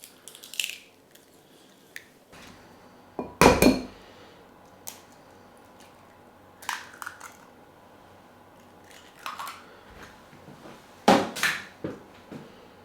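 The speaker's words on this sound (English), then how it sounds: "My first job is to separate these eggs." Eggs are separated in a home kitchen for a chocolate dessert. A series of sharp shell cracks and taps against a bowl comes close and clear, with several louder knocks spaced irregularly among quieter clicks and handling noises.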